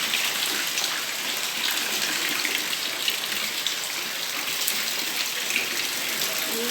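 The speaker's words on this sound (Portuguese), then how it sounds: "É chuva, viu? Olha o barulhinho." Heavy rain pouring down in Maceió, a dense, steady hiss of falling water drumming on surfaces, loud and continuous throughout with no voices.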